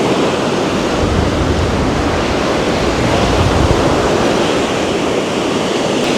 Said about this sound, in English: Look at this beautiful beach.